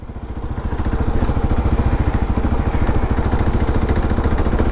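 A 2022 Kawasaki KLR650 single-cylinder dual-sport motorcycle drones steadily while riding on Utah dirt roads, its engine thumping in a rapid, even rhythm at close range with constant wind noise and no talking.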